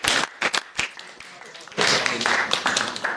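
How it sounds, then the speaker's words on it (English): Audience applause at a JROTC public speaking session, starting with a few scattered claps that build into fuller, steady clapping from a small group. "Everybody give her a round of applause."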